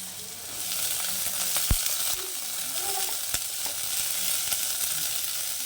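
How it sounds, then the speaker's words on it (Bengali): Carrots and beans fry in oil for a vegetable dal, giving a steady, close sizzle with a broad hiss throughout, plus a couple of sharp crackling pops. "তো এবার সবজিগুলোকে ওই একই তেলের মধ্যে আমি ভেজে নেব"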